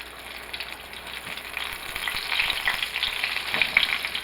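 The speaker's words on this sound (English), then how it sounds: "We're getting that splatter because they're still cold from the freezer." Frozen okra, still cold from the freezer, crackles and spits in hot frying oil, a dense steady sizzle with popping splatters that grows louder toward the end, with no talking.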